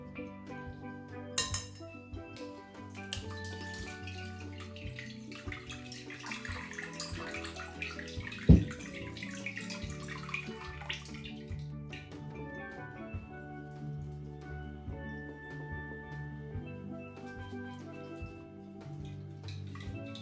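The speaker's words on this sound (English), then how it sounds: "So I'm firstly going to strain it into a glass bowl and then transfer it into the container." Sea moss gel (Chondrus crispus) is strained into a glass bowl, with steady wet, gloopy pouring and occasional light clinks of glass, plus one sharp knock midway. No one speaks.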